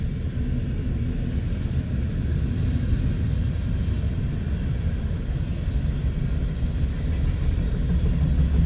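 A long freight train with a mid-train locomotive rumbles past in Missouri Valley, Iowa, a deep steady roar of rolling wagons and intermodal containers with faint high squeals of wheels on rails.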